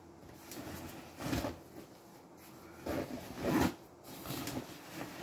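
A new bag's zipper pulled in several short rasping strokes, close and fairly quiet, with soft fabric rustle between the bursts.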